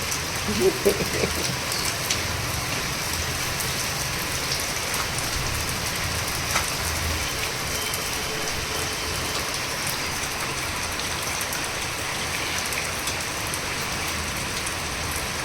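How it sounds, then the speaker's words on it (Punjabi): Heavy monsoon rain pours steadily, with spray blowing into a room, a dense constant hiss of drops on surfaces, close and unbroken throughout, with a few faint knocks early on. "ਅੱਜ ਬਾਛੜ ਸਾਰੀ ਕਮਰੇ 'ਚ ਹੀ ਬੜੀ ਜਾਂਦੀ ਹੈ"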